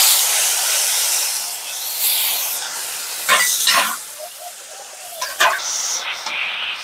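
Ground green and dried chilli paste hitting hot oil in a village-style kitchen, a loud sustained hiss that fades gradually, with a few sharper spits and crackles near the end.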